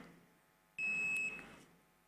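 A single electronic quiz buzzer sounds at a national campus quiz final, a clean sustained tone lasting about half a second before fading into room echo.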